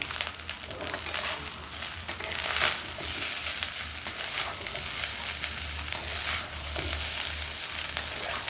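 Rice is stirred through hot oil in a frying pan with mace. A continuous soft sizzle carries a scraping, shuffling texture from repeated stirring, steady and close with no talk.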